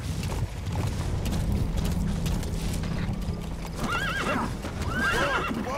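Horse hooves clip-clop in a fast gallop in Metal Gear Solid V: The Phantom Pain, with mechanical rattling under them and neighs near the end.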